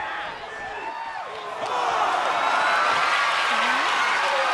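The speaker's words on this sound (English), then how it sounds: "Taking a moment to get pumped off of this crowd's incredible energy." A wrestling video game crowd cheers and roars steadily, building in volume partway through, while a commentator talks over it.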